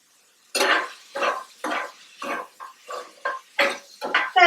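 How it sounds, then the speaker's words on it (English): A spoon scrapes and clatters around a pot of braised chicken in roughly nine or ten regular, close strokes, each with a wet, scraping texture. "we'll just go ahead and stir that around"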